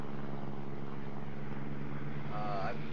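Aircraft circling in the World of Warships naval combat game, a steady droning propeller engine hum holding throughout, with a brief rising whine near the end.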